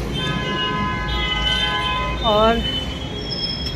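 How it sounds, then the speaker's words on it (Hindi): A metro train at Sector 18 metro station in Noida rumbles steadily, with tonal ringing and a brief rising wheel squeal over busy city ambience; a voice speaks briefly. "ये मेट्रो स्टेशन है सेक्टर 18 का"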